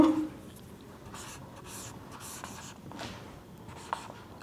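Marker or chalk writing on a classroom board during an English grammar lesson, soft intermittent scraping strokes in short bursts, faint and close, with no speech.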